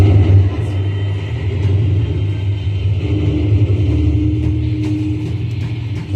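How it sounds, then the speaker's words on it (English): A truck collecting bags of food waste rumbles steadily nearby, its low engine drone droning throughout with a brief rising whine midway and no talking. "Trucks collect the bags"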